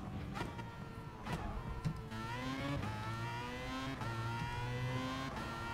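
Racing car engine in Gran Turismo Sport, a steady loud drone that eases as the driver lifts off the gas, with a brief rev and rising and falling pitch.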